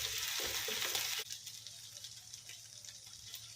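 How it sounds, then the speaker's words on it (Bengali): Chicken pieces frying in a pan with garlic-ginger paste, a loud sizzle with stirring scrapes that drops suddenly to a quieter steady crackle and patter. "চিকেন দিয়ে ভালো করে ভেজে নিতে হবে।"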